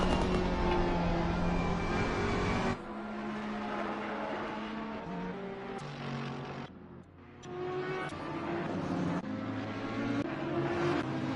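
The onboard engine of a Porsche race car at Kyalami in Assetto Corsa Competizione snarls loudly, climbing through the revs and dropping abruptly with each gear change, then rising again, steady and up close.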